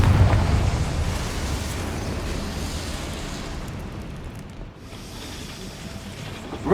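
A Confringo fire spell blasts in Hogwarts Legacy, a loud, sustained roaring rumble that starts strongly and slowly eases, briefly dipping before swelling again at the end.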